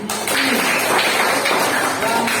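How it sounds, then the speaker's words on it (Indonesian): A classroom of students breaks into a burst of applause during an Arabic-language lesson in Indonesia, with dense, steady clapping lasting about two seconds after a brief opening. "Oke, tepuk tangan."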